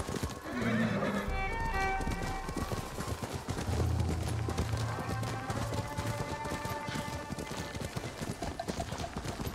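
Rapid clip-clop of a galloping horse in Ghost of Tsushima, joined by a loud whinny at the start, carried along under game music and ambient effects.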